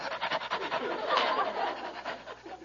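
A man down on all fours imitates a dog's panting with his voice, giving quick rhythmic breathy huffs that stay steady and close for a few seconds.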